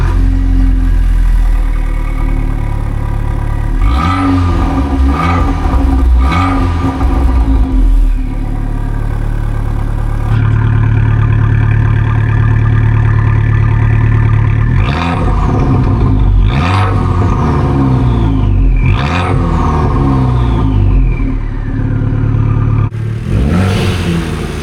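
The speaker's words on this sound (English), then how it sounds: "let's get you guys in the car with me and let's take it for a sunny, sunshine spin" A modified Abarth with a remapped turbo engine making 230bhp drives along, its engine loud and close throughout, revving hard in repeated bursts with rising and falling pitch, settling into steadier cruising between pulls.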